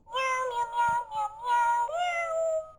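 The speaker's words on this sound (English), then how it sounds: "Then it can make another meow if you press on it." A cat toy gives off an electronic meow, a clear tonal cry that rises and falls in several pulses and ends in a held note, close and loud with no talk over it.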